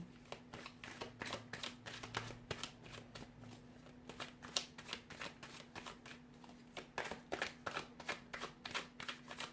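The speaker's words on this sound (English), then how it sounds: "So we'll give the cards a shuffle here" Tarot cards are shuffled steadily and close up, a rapid series of soft riffling flicks repeating over a faint low hum.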